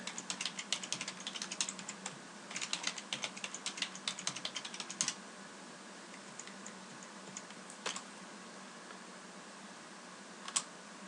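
Fast typing on a computer keyboard during an operating system installation: a close, quiet burst of key clicks that thins to a few isolated taps. No voices.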